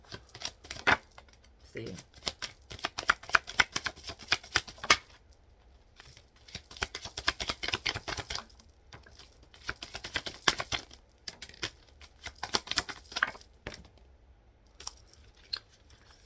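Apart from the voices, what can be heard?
shuffling and cutting a deck of cards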